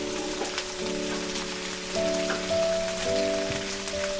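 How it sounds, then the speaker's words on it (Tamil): Ginger, garlic and shallots sautéing in a pan, giving a soft, steady crackling sizzle at low volume, with faint tonal hum from kitchen equipment running underneath. "இது மூணுத்தையும் சேர்த்து நல்லா வதக்கிக்கோங்க"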